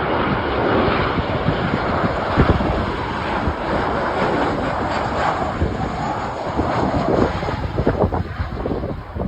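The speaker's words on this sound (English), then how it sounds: "Looks like we got a KLM 737 coming in." A KLM Boeing 737 airliner roars loudly while coming in to land, a broad steady engine rumble mixed with wind buffeting the microphone.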